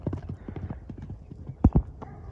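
A lone horse's hooves clatter in quick galloping beats, close and fairly loud, with two heavier thuds near the end and someone talking over them.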